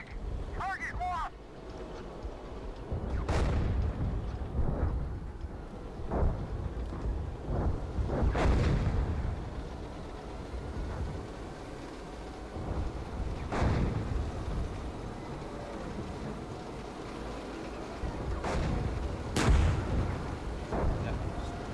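Artillery shells strike and burst around a tank in a tactical tank combat video game, with heavy booms scattered irregularly under a steady rumble while crew members talk over the fire.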